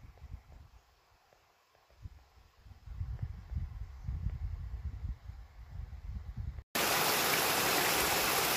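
Berkeley Creek on Mount Rainier flowing steadily, a continuous broadband rush of water that grows louder partway through and ends in a sudden loud burst of noise.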